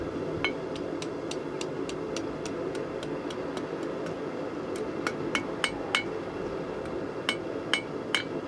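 A blacksmith strikes hot metal on an anvil at an outdoor heritage fair, sending out a long run of bright, ringing hammer blows in a steady rhythm, then a pause and a few more clustered strikes over crowd murmur.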